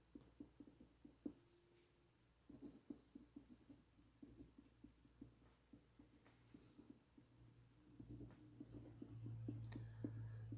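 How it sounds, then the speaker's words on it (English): A pen writes by hand on a paper note card, making close, quiet scratchy strokes in irregular bursts with short pauses, the scratching growing denser toward the end. "So I'm going to write that down."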